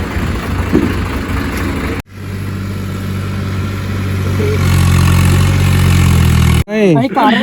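A low, steady Swaraj 855 tractor engine rumble runs and grows louder, with a brief cutoff near the end followed by speech.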